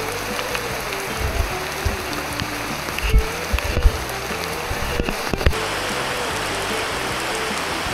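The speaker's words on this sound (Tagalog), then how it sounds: "Inabot na kami ng ulan." Rain falls on a downhill trail to Kilangin Falls in Liliw, Laguna, making a dense, even hiss throughout, with a few soft thumps and knocks near the middle.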